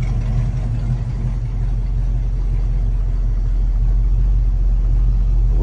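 The original engine of a 1976 Pontiac Trans Am runs at a steady idle, a deep, even rumble heard close and alone for the whole stretch with no voices.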